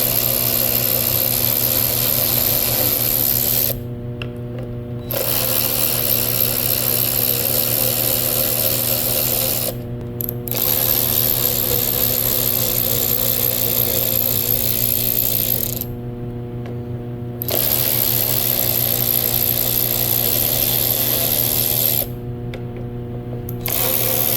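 Omlepai 21V cordless 3/8 electric ratchet wrench running in four long whirring bursts with a steady motor whine, separated by short pauses, loud and close, no talk.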